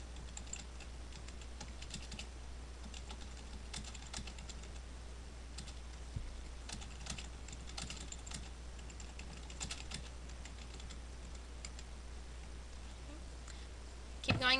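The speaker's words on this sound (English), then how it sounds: "so just start typing." Steady keyboard typing on a computer in a classroom smartboard setup, a continuous run of light clicks with irregular bursts, close and moderately loud over a constant low hum, with no talking.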